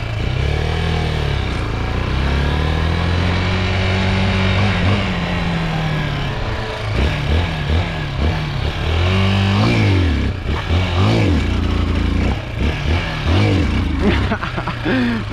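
A street-legal dirt bike engine revving up and down, loud and close, the pitch sweeping up and falling back with rattly bursts, with voices talking over it at times.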